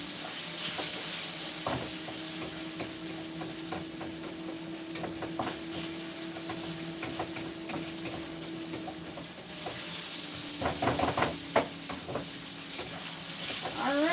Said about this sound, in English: Alright, so I'm sauteing this for a minute.